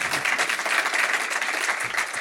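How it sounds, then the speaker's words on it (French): A live audience applauds the sailor Corentin Horeau with brisk, dense clapping from a crowd that stays steady throughout. "Vous pouvez l'applaudir 2 fois même."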